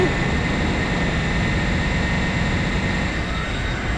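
An aerospace fighter idles on a runway before take-off in the MechWarrior: Living Legends video game, giving a loud, steady jet engine roar with a low rumble and a high whine, unbroken throughout.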